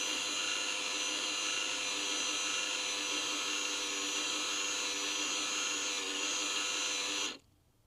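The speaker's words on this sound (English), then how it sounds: "So now we're extending the parking brake." The small electric motor of an electronic parking brake caliper runs steadily as it extends the piston, making a continuous buzzing whir that holds constant for several seconds and then cuts off abruptly.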